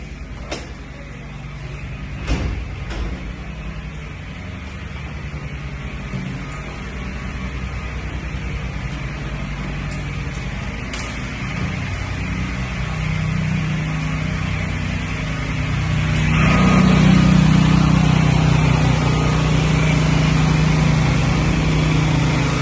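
Steady loud engine drone from several petrol generators running outside an office, thickening and growing louder toward the end, with occasional clunks.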